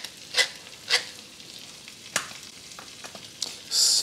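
Onions with salt and black pepper cook in a Dutch oven over medium-low heat, giving a faint, soft sizzle broken by a few brief stirring scrapes and a louder burst of frying at the close.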